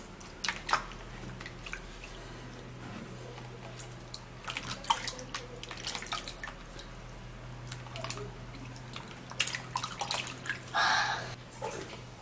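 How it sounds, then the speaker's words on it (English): Tap water runs while hands are washed under cool water, with faint splashing, dripping and wet rubbing sounds, quiet and close. "now you would have to be washing it off with a cool water"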